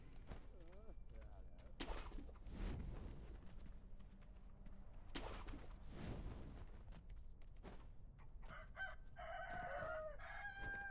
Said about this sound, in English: Go away, chickens.